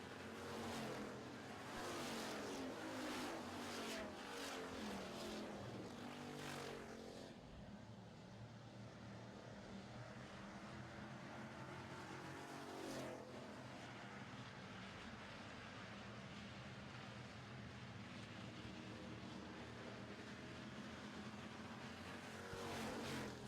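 Pure stock race cars, including the McRae Motorsports Big 9 Boss Mustang, roar past in a feature race, a dense sustained engine drone with swelling passes, loud and continuous throughout.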